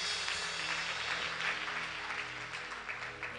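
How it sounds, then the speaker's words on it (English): Church congregation clapping hands together during worship, a steady dense patter of many hands that fills the room at a moderate, somewhat distant level with no voices standing out. "Somebody clap your hands to Jesus"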